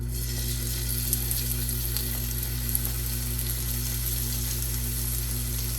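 Italian sausage filling, squeezed out of its casings, fries in a skillet with a constant close sizzle over a low steady hum, with only a couple of tiny pops and no voices.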